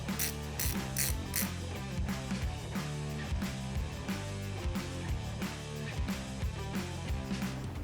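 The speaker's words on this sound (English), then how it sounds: "for this, I'm using a 10mm 12-point socket" A ratchet fitted with a 10mm 12-point socket works loose the 12-point brake caliper bolts on a Harley Sportster, with steady rapid clicking throughout and a busy mechanical backdrop, no talk.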